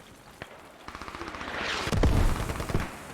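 Rapid gunfire and heavy mortar impacts from a combat game set in the Afghan hills, with insurgents attacking Australian troops; a few scattered shots build into a dense, loud rattle of fire, and a big booming blast lands near the end.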